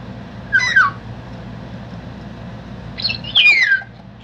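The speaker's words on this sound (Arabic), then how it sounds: "رقم 13 حاط صوت صفاري فقط" Golden oriole call played through a bird sound device speaker: two short, whistled, slurred phrases about three seconds apart over a low, steady background hum.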